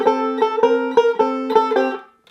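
A banjo plays a short blues lick of sustained, ringing plucked notes in a steady rhythm, each attack clear and close, the last note fading out alone.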